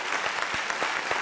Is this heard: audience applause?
yes